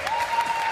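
Audience applauding finalists at a modelling contest finale, a dense continuous burst of clapping from a crowd, steady and fairly near.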